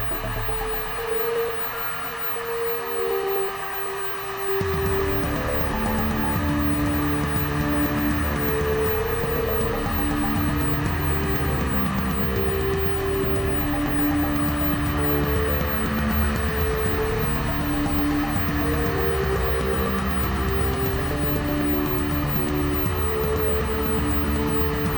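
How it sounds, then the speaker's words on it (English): A heat gun switches on a few seconds in and blows with a steady, close whirring hiss and hum over epoxy resin, running continuously to the end. "And then I'm gonna get my trusty heat gun and we're gonna blow these out."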